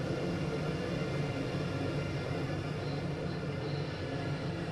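A simulated ICE train in Train Sim World 2 rolls along with light brake applied in rain, a continuous low rumble, steady and fairly loud, with no distinct squeal or hiss standing out.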